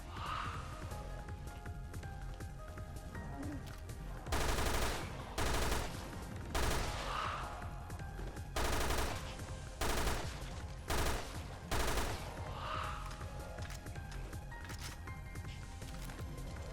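Heavy bursts of gunfire from a powerful gun in Resident Evil Revelations 2 Raid Mode: loud, close volleys that come about once a second over a constant background of game noise and rain-like hiss.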